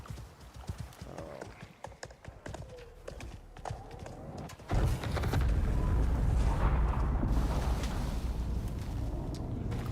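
Hooves clip-clop in a steady rhythm in a video game (Icarus), then give way to a loud, continuous rumbling roar that fills the rest of the sound.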